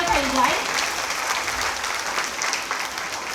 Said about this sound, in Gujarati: એકવાર ફરીથી એમના માટે જોરદાર તાળીઓ થઈ જાય